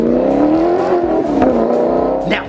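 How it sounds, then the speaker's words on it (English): A Maserati GranTurismo's exhaust rises in a loud, close rev, a rich, throaty engine note that climbs and sustains before it falls away at the end. "With that beautiful exhaust note, you are gonna be turning heads when you sound like this."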